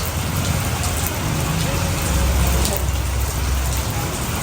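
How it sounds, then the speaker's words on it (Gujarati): Steady rain falls on surfaces, a dense, even hiss of drops with a low background rumble, continuous and fairly close. "વરસાદ પડે છે જોઈ લે"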